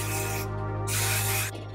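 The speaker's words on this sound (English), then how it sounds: "Do one last big spray if you want." Hairspray is sprayed onto curly hair in two long hissing bursts, close and loud, with a brief pause between them and no talking.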